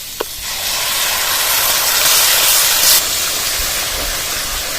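Spice paste tipped into fried onion paste cooking for doi potol, giving a loud, steady hiss of sizzling steam that carries on throughout after a brief clatter at the start, with no talking.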